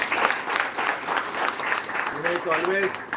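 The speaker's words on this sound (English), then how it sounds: "Big round of applause." An audience at a company December town hall claps for an office head, a continuous patter of many hands at moderate volume, with a voice briefly speaking over the clapping near the end.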